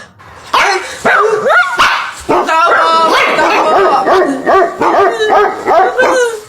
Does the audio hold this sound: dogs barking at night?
yes